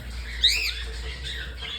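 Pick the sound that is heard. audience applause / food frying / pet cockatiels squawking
pet cockatiels squawking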